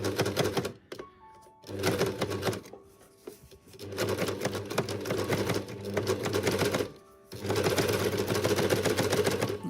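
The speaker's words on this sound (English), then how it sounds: "Take it gently with your overlocker" An overlocker serging curtain fabric for attached pelmet curtains, running in several bursts of fast, even mechanical stitching with short pauses between them, loud and close.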